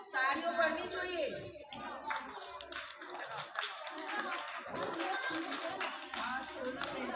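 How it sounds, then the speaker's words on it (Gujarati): Audience clapping at an Anganwadi service event, steady scattered handclaps running through the whole stretch with voices and chatter mixed in. "તાળીઓ પડવી જોઈએ."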